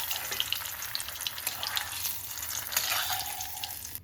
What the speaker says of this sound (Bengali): এরকমভাবে আমি সবগুলো টমেটোগুলো ভেজে নিচ্ছি।